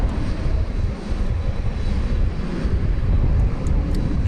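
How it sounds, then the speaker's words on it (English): Airbus A321 taking off at night from Dallas/Fort Worth airport, a steady, loud, broadband engine roar holding level throughout without a break, heard at a distance with no talk. "Got an Airbus A321 about to take off"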